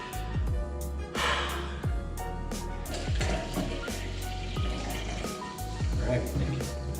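A Ramos Gin Fizz cocktail with club soda being poured from one cup into another, a steady liquid fill under a constant low background hum, with a few brief knocks.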